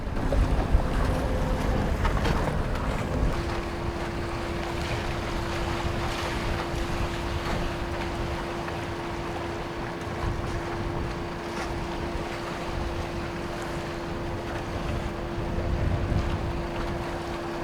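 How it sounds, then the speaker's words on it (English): Sailboat motoring dead into the wind on a river, a steady drone with a constant low engine tone under heavy wind buffeting and water wash, continuous with no talking. "I motor dead into the wind."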